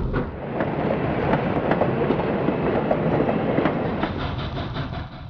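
A steam train rumbles past nearby near Chicago, a heavy steady roar with rhythmic clicking of wheels over rail joints.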